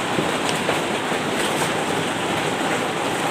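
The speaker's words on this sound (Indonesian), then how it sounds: "Nih hujan, sana diguyur lebat hujannya ya." Heavy rain pouring down in a steady, dense hiss, loud and continuous with no pauses.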